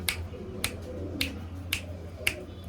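Five crisp finger snaps at an even, unhurried pace, made to call a pet pigeon, close and fairly quiet over a low steady background hum.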